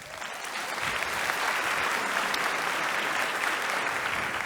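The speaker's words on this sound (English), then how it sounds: "can you clap your hands for Sergio?" An audience at a talk applauds for a friend seated among them, the clapping swelling quickly into a steady, full crowd applause with no voices over it.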